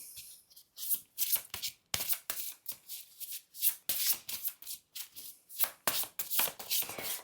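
A deck of tarot cards shuffled by hand in quick, repeated bursts of riffling and slapping, close and crisp with short pauses between handfuls, and no talking.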